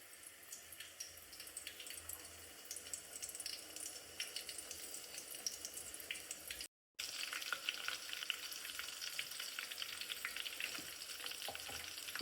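Finely chopped garlic frying in oil in a pan during dal-baati preparation, a steady bright sizzle with crackling bursts that runs throughout, briefly cutting out and then resuming slightly louder.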